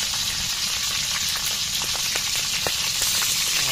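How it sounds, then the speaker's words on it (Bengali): Chopped onions and green chilies crackle in hot oil in a home kitchen while a village-style desi chicken biryani is being made, giving a loud, steady sizzle with scattered sharp pops and no voices. "পেঁয়াজ দিয়ে দিলাম"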